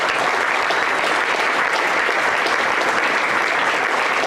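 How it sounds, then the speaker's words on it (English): Dense, steady applause fills a hall at the Minnesota State Fair FFA awards as the crowd claps for past D.K. Baldwin Award recipients, loud and sustained without a break. "Give them a round of applause."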